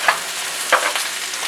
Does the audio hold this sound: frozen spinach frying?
yes